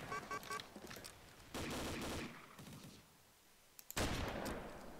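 Rapid gunfire bursts in a first-person shooter video game, crackling shots fired in several quick volleys with short pauses between, fairly loud and with no talk over them.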